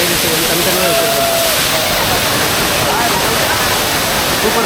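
Agasthiyar waterfall at Papanasam, Tirunelveli roars loud and constant, a dense unbroken rush of falling water close by.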